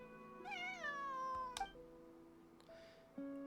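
A cat in Genshin Impact gives a single drawn-out, rising then falling meow, followed by a short soft chirp, clear and close against quiet in-game background music.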